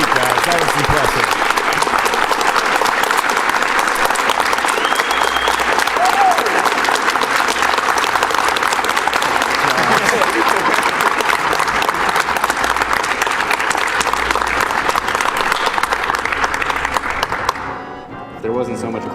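Live audience at a Summer Games Done Quick 2014 speedrun event giving loud, sustained applause that fades out toward the end, with some talking mixed in.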